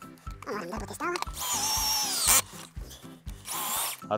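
A large earth auger bores into sandy ground, giving a loud, gritty grinding with repeated heavy thumps and a rising mechanical whine. A voice speaks over it at times.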